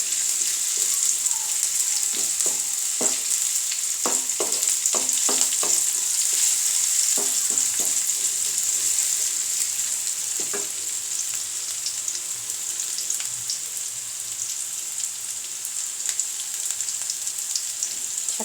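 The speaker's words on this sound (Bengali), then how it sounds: "পেঁয়াজটা একটু ভাজা হলে এর ভিতরে আমি রসুন দিয়ে দেবো।" Onion and garlic sizzle in oil in a pan for a sour tomato soup, a bright, steady frying hiss with a cluster of quick spatula clicks early on, then mostly unbroken crackle.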